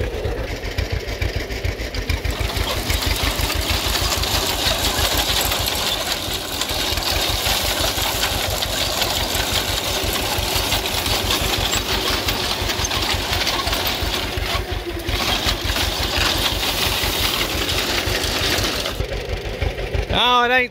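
Old tractor engine running steadily in low gear at a farm show with wheat binding, a fast rhythmic chugging that stays loud and near throughout, with people talking over it.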